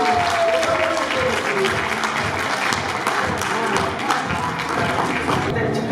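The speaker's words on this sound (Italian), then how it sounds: "Un forte applauso" Loud, sustained applause from an audience at the Miss Perla 2021 beauty pageant at Villa Godi Malinverni, dense clapping filling the whole stretch with some crowd murmur beneath.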